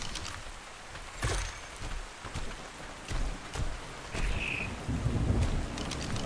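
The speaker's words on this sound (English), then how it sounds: "Okay, there is a big storm." Heavy rain hisses steadily through a thunderstorm in the ARK Survival Ascended game, with repeated sharp thunder cracks and low rumbles breaking through at intervals, loud and close.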